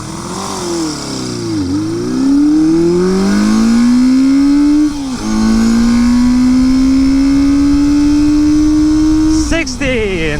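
A 1973 Honda CB500 motorcycle with freshly synchronized carburetors accelerates hard from 0 to 60 mph, its loud engine note climbing steeply, dipping briefly at two gear shifts, then holding a high sustained whine.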